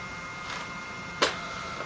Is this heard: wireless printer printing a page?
yes